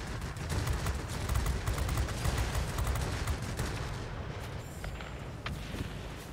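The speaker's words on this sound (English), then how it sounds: "That 57 millimeter cannon certainly puts a hurting on people" A 57 mm cannon firing from a Ki-102 heavy fighter in World of Warplanes: rapid, dense, loud bursts of heavy gunfire over a constant engine roar, easing slightly toward the end.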